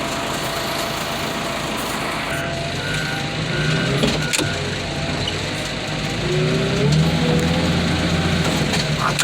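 Garbage truck dumping its load, a loud steady engine rumble with hydraulic whine and repeated reversing beeps, close by throughout.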